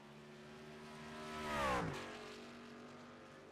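A race truck in the sim racing game iRacing sweeps past with a rising then falling engine note, growing louder toward a close pass around the middle and fading away afterward, with no talking over it.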